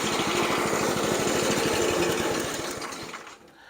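A McLane 25-inch 10-blade commercial reel greens mower runs close by with a loud, fast rhythmic clatter, then the engine is shut off and the sound winds down and fades over the last second.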